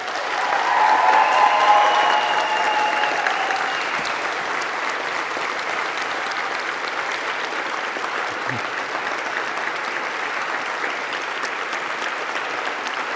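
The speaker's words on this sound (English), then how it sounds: "Give them a huge round of applause." A graduation audience gives a huge, dense round of applause for families, friends and staff, loud and sustained at first and then easing slightly while staying steady to the end.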